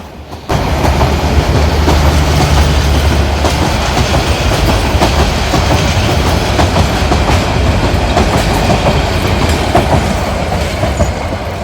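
A loud train rumbles past close by, with continuous clattering wheels and a low engine drone throughout.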